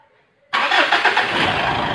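A Mitsubishi Pajero Sport that is short on power, during an engine flush service, stays quiet for half a second, then its engine cranks and catches with a sudden loud roar and settles into a rough, close idle.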